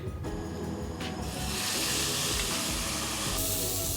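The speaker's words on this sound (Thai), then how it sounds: "พอกระทะเราร้อนควันขึ้นแล้วเราก็ไม่ต้องกลัวนะเพราะมันจะไหม้ทีนี่เราก็เอาเนื้อที่เราหมักไว้" Marinated beef drops into a smoking-hot wok and bursts into a loud, sustained sizzle that swells after a second and holds steady, with a few clinks of the pan at the start.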